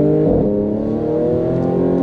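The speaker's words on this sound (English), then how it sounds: "if you floor the car, you just get this brah, brah. It's so mean." An Audi S5 Sportback with a turbocharged V6 and Stage 2 tune roars under full throttle, a loud, deep, continuous exhaust drone heard close with steady revs and no talk.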